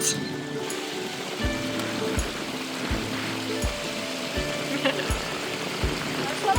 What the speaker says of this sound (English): Oh, I love running water. The sound of it makes me so happy.